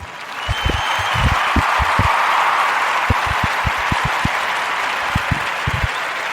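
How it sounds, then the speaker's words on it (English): A podcast audience gives a warm round of applause for a guest, with steady dense clapping throughout and a few sharper, closer claps over the wash. "Your warm Narrator podcast round of applause for Linda Gibson and Eva Jane Naturals"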